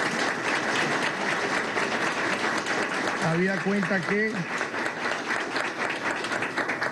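Graduation ceremony audience at a national prosecutors' school breaks into sustained applause while someone speaks over it briefly in the middle.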